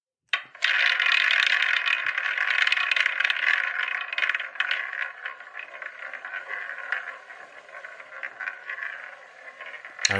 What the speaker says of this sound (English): Okay, let's spin the wheel.